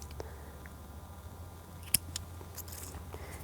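Pruning shears make a single faint, crisp snip through a houseplant stem below a leaf node, with a few tiny clicks before and after in a quiet room.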